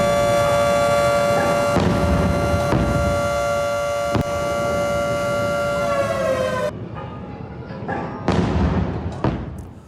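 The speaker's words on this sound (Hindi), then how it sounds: "हिजबुल्लाह के हमले के बाद हाइफा में बज रहे सायरन।" Air raid sirens wail in Haifa after a Hezbollah attack, a loud sustained steady tone lasting most of the clip before cutting off, with dull thuds and bangs scattered through and continuing after the siren stops.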